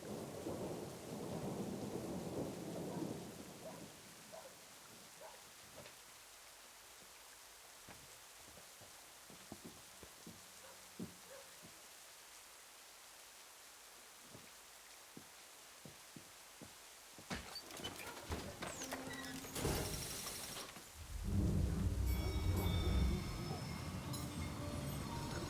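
Thunderstorm in the Syberia video game: steady rain hiss with low rumbling thunder at the start, scattered heavy drops and cracks, then a sharp thunderclap and loud rolling boom near the end.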